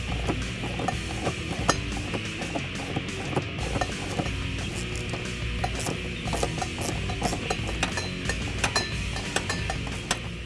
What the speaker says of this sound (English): I'm going to remove the two nuts that hold on the bracket.